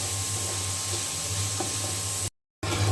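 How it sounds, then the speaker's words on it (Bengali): Chicken pieces fry in hot oil in a home kitchen for noodles, giving a steady, close sizzle and crackle with faint stirring, broken by a brief silent gap near the end. "চিকেন কিন্তু খুব ভালো করে ভেজে নিতে হবে।"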